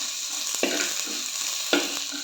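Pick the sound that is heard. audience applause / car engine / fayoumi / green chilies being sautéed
green chilies being sautéed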